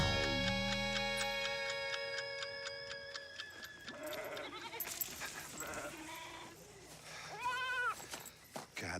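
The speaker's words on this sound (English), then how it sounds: "Goddamn goats." Goats bleat in several wavering cries toward the end, following a ringing electronic tone at the start, amid scattered movement and background noise.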